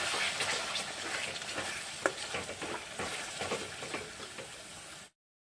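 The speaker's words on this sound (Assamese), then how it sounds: "মচলাখিনি এবাৰ ভালদৰে এনেদৰে ভাজি ল'লোঁ" Masala spice paste for egg curry fries in a pan with added water, a dense continuous sizzle broken by scraping strokes of a stirring spoon, close up with no talk, cutting off abruptly near the end.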